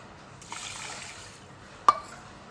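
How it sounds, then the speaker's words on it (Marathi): Water poured from a small bowl into washed rice in a pot, a brief soft trickle followed by a sharp splash or clink, quiet and close. "आता त्याच वाटीने आपण 2 वाट्या पाणी घालायचं।"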